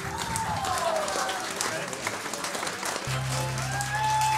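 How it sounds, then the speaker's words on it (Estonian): Audience applause fills an accordion festival day in Märjamaa, a dense, steady clapping from a crowd that carries on throughout with a few higher tones passing over it. "aplaus publikumile"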